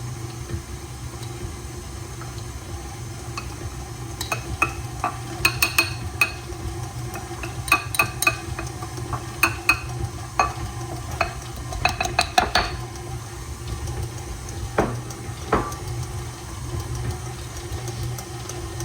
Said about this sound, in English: mix in our 1 1/3 cups of chickpea flour